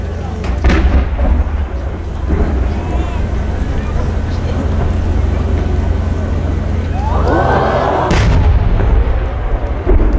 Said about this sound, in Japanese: 全体で6層の同心円を描く割り物花火です。